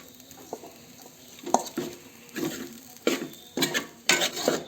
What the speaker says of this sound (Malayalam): നമ്മളപ്പോൾ ഇട്ട് നല്ല ശരിക്കും ഇളക്കുക